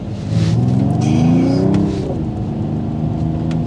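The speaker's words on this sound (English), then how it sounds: "I like the exhaust note that filters in." A 2024 Mercedes-AMG GT53 engine revs up and settles into a loud, throaty exhaust drone, close and continuous with no talking.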